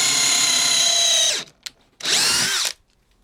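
A power drill boring through wood with a 1/2 inch Daredevil bit, two loud high whining bursts of about a second each, separated by a short pause with a faint knock, close by.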